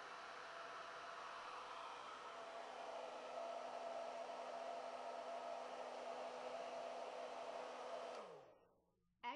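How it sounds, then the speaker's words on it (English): A blow dryer drying kinky curly hair roars loudly and steadily at close range for about eight seconds, then switches off and winds down. "So I'm going to mute this because this blow dryer is extremely loud."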